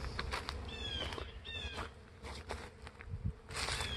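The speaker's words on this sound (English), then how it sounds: "I'll tell you what, I hear a swarm." Out in the woods a bee swarm hums faintly and steadily in the distance, with light rustling and patter nearby.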